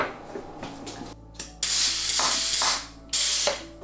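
A bath bomb press squeezes rosemary mint bath bomb mixture into a heart-shaped mold, giving a mechanical ratcheting creak and clunk with louder pressing bursts near the end, close and clear without talk.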